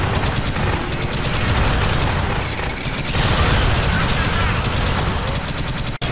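Rapid automatic gunfire from a sentry gun in the video game Alien Swarm: Reactive Drop, a dense, continuous stream of shots with game effects, steady and loud throughout, then cutting off abruptly at the very end.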